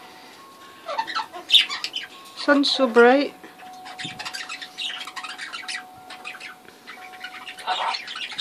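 Pet budgies and parrots squawking and chirping in short bursts at close range, mixed with a person talking over them.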